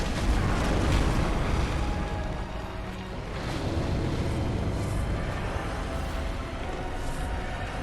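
Peppermint torpedoes launching and exploding in the video game Bloodborne, a continuous loud roaring rumble with surging, wave-like booms that swells and eases without pause.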